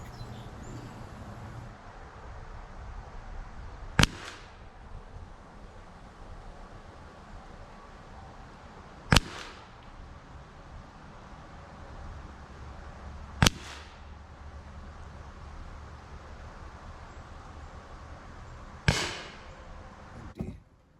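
A Beeman Commodore-S .22 air rifle fires four sharp, isolated cracks several seconds apart, with a faint fifth near the end, all over a quiet outdoor background hiss.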